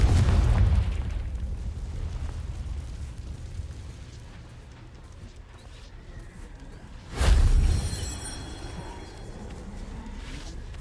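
The Confringo fire spell in the video game Hogwarts Legacy erupts in a deep booming burst with a whooshing tail, following an earlier low rumble and sitting over steady game ambience.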